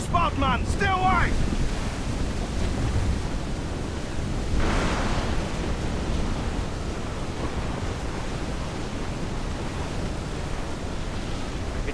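Wind-lashed stormy sea near a waterspout in Assassin's Creed IV Black Flag, heard as a continuous heavy rush of wind and waves with one brief surge partway through and a short voice-like cry at the start.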